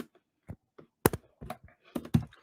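Someone types on a computer keyboard during a SwiftUI coding demo: a handful of sharp, close keystrokes in uneven bursts, with quiet gaps between them and no talking.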